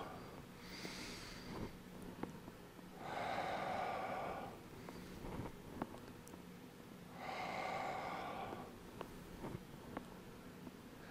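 Slow, deliberate breathing during a qigong Lifting the Sky exercise, two long airy exhalations through the nose or mouth a few seconds apart, close and soft, with quiet rustling and light taps between breaths.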